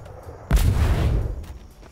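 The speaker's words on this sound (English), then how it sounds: "Thought they have like a swivel cannon or something." A swivel cannon fires once in the Atlas pirate game, a sudden loud boom with a deep low rumble that rolls on for most of a second before fading.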